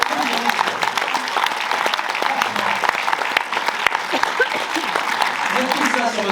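An audience claps steadily for several seconds at a comedy opening event in Marseille, with a voice speaking over the applause.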